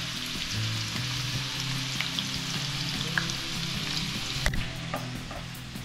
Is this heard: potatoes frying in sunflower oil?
yes